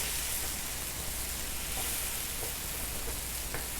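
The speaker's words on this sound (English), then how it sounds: "Gonna give that a quick stir." Vegetables seasoned with garlic powder and parsley sizzle in a hot pan as they are stirred, making a continuous, even hiss close by with faint scraping taps and no voices.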